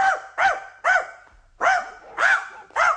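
A human voice imitating a very big dog, giving six short, gruff barks in a fairly even rhythm, loud and close.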